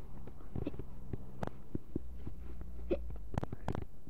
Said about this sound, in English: Oh, I got a hiccups.